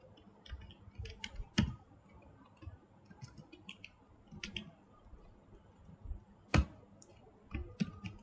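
Keys tapped on a computer keyboard in short irregular bursts of faint clicks, with a few sharper isolated keystrokes standing out against a quiet room.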